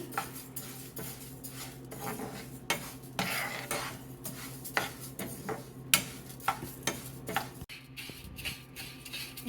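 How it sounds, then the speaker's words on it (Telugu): Flaxseeds being dry-roasted in a pan over a low flame, with a spatula scraping and clinking against the metal in an irregular stirring rhythm, close and fairly quiet, with faint sizzle underneath. "సిమ్లో పెట్టి ఇంకా ఇట్లా మంచిగా వేపించుకోవాలండి"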